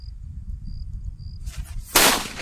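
A short hiss from a Sivakasi Kannan firecracker leads into one loud, close bang with a brief tail, over low outdoor rumble and a faint insect chirp.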